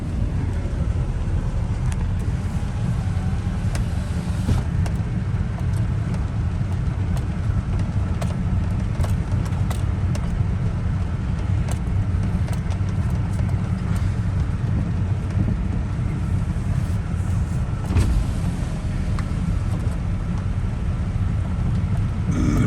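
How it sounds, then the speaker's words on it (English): A vehicle rolls across a grassy farm field, giving a steady low engine rumble with rustling and bumping noise throughout and no talking. "I'm gonna drive down there and take a look at it."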